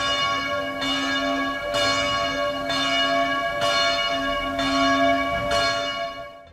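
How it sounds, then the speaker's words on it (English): Church bells ring in the Czech village of Okřížky, about six evenly spaced, resonant strokes with long humming overtones, clear and steady with no voices. "the bells calling me to the church"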